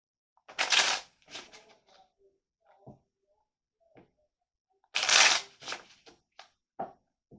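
Tarot cards are shuffled in two brisk bursts of riffling and flicking, each followed by scattered soft taps and card slaps in a quiet room.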